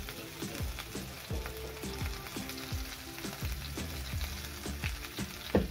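Nut paste with spices fries in a pan for a Bengali badam potol dish, a soft continuous sizzle under repeated scraping spatula strokes against the pan, close but fairly quiet, no voices.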